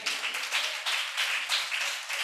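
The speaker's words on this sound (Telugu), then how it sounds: "చప్పట్లు కొట్టండి." A church congregation at a Bible study clapping hands together in a quick steady rhythm, a dense run of close, even claps filling the whole moment.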